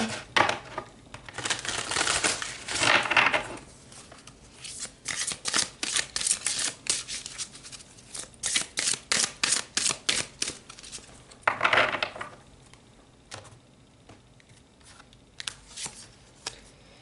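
Tarot cards are shuffled by hand in repeated quick bursts of riffling and slapping, fairly close and moderately quiet, with short pauses between rounds and no speech.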